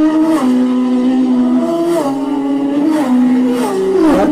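Racing motorcycle at the Isle of Man TT, a loud, close, high-pitched engine whine that holds steady, drops and rises again through several gear changes over a few seconds, with no talk.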